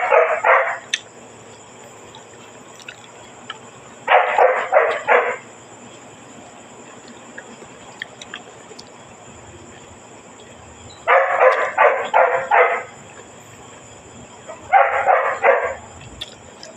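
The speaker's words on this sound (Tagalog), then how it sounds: "Ang ingay sa aso." A dog barks in four quick bursts of several barks each, fairly close and loud, with quiet pauses between the bursts in a home setting.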